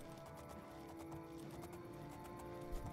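Horse hooves clip-clopping while riding in the modded Elder Scrolls IV: Oblivion game, a steady hoofbeat rhythm over a constant droning music and ambience bed, moderately quiet.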